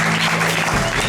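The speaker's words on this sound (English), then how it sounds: "could you guys give yourself a round of applause really quickly?" Audience applause from a crowd at a talk, a dense steady wash of many hands clapping that fills the whole stretch at even loudness.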